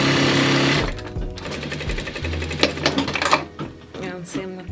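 Sewing machine stitching the side seams of kids' joggers made from a hoodie: close, rapid mechanical chattering in bursts of varying speed with short pauses between runs, and a voice speaking intermittently over it.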